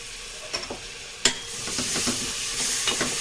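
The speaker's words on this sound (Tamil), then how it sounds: "தக்காளியும் நல்லா வதங்கணும்." Tomatoes hit a hot pan of spiced oil with turmeric for a boti curry with a sudden thump, then sizzle and hiss loudly while a utensil clinks and stirs a few times.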